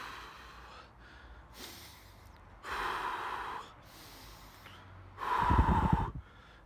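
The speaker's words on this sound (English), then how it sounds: "Take a deep breath." A person takes several slow, deep breaths, audible inhales and exhales spaced a couple of seconds apart, close and fairly quiet, with the last exhale the loudest and most forceful.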